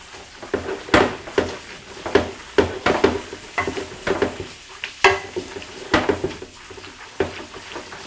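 Rice noodles stirred in a pot with peanut oil, a run of irregular scraping, clanking and slippery stirring strokes, fairly close and loud, with no talk.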